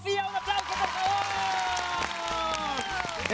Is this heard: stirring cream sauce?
no